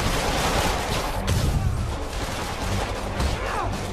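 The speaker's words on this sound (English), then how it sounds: "they're just shooting out in the open." Gangsters firing guns in the Spider-Man: City Never Sleeps video game, a dense, continuous barrage of loud gunfire and crashing bursts with no break across the span.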